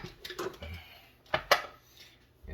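Clattering kitchen noises as a blender jar is lifted off its base while shrimp are prepared, a few sharp knocks of glass and plastic, with two louder clunks near the middle, close by.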